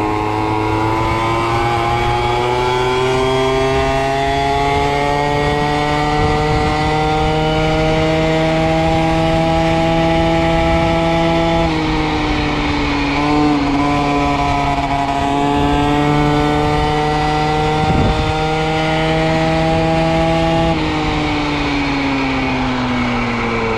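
An MBK Booster Next 50 scooter with an MHR engine and a Polini For Race kit drones loudly and steadily at high revs. The pitch holds high with brief dips and shifts, close by and with no voices.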